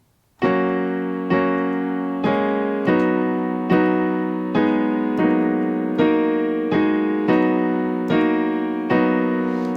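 Full piano chords are struck about ten times in a steady, even rhythm, each ringing out before the next, with no talking.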